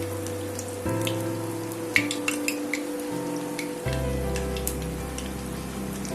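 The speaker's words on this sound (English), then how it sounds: "This will fry a little. Let it fry, and once one side is done, turn it to the other side." Palm fruit dessert batter frying in hot oil makes a steady, close sizzle with scattered crackles and pops. Sustained tonal sounds run underneath.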